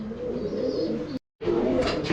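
Pigeons cooing up close in a loft, soft throaty calls continuing on either side of a brief silent gap, with a few brighter chirps near the end.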